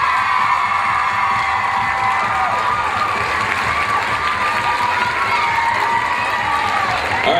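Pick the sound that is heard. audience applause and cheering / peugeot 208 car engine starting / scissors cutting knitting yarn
audience applause and cheering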